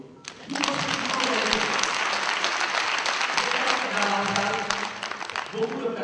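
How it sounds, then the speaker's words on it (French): Crowd at a gathering of West African women during Senegal's 2012 presidential election claps warmly for Madame Diop, rising sharply and holding steady for several seconds, with some voices audible underneath. "d'applaudir beaucoup Madame Diop"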